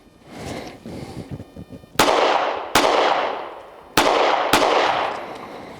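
HK CC9 pistol fired at a shooting range: four sharp, loud gunshots spaced irregularly about a second apart, each followed by a short decaying ring, after quieter rustling and handling noise.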